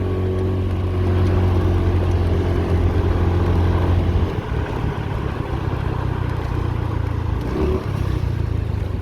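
Honda Dio 110 JF31 scooter riding in dense traffic: a steady engine drone with low hum and wind noise, the pitch dipping midway as the throttle eases, then rising again.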